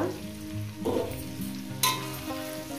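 Drumsticks and potatoes fry in a pan, giving a steady, close sizzle and crackle that stays fairly loud throughout, with a brief bright flare of spitting partway through and a short stirring scrape earlier.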